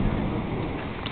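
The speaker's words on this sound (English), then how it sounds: "And there's thunder." Thunder rumbles low and heavy beneath the dense roar of a severe rainstorm in Portage, Michigan, a continuous loud wash of pounding rain.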